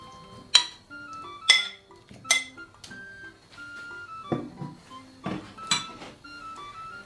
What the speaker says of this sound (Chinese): 我们把刚刚改好刀的鸡翅给放入碗中